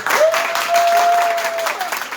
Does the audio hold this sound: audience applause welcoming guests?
yes